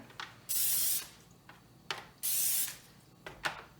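Two long hissing bursts of cooking spray onto tostadas before broiling, each about half a second, separated by softer clicks and rattles of the can.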